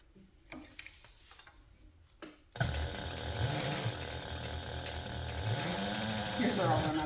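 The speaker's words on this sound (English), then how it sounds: "now we're going to sew these together using a 1/8 inch seam allowance as well" After a quiet start with some talk, a sewing machine starts up and runs steadily, stitching handbag pieces together with a fast mechanical whir and rapid needle chatter that continues to the end.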